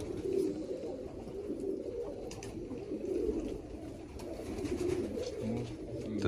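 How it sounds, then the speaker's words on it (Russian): Steel-coloured Turkish pigeons coo in a pigeon loft, soft low throaty calls overlapping in a continuous murmur, close by and without talk. "Это турецкие голуби."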